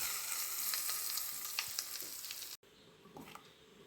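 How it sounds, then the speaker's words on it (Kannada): Hot oil tempered with mustard seeds and chili is poured into chutney, giving a steady crackling sizzle with sharp pops. The sizzle cuts off abruptly, then continues more softly with a few faint stirring clinks. "ಎಣ್ಣೆ, ಸಾಸಿವೆ, ಮೆಣಸು ಹಾಕಿದ ಒಗ್ಗರಣೆಯನ್ನು ಇದಕ್ಕೆ ಸೇರಿಸಿಕೊಳ್ತಾ ಇದ್ದೇನೆ"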